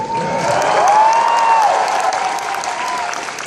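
Loud, sustained applause from a large crowd at a sumo wrestling demonstration fills the space, with a whistle-like tone rising briefly above the clapping.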